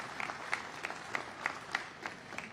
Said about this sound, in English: a round of applause for Mark and the entire foundation for what they do